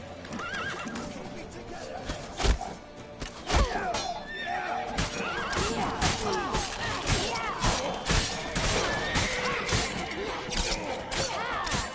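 A horse whinnies loudly amid hooves clopping and sharp crashing impacts, with a busy game soundtrack throughout, in The Witcher 3: Wild Hunt.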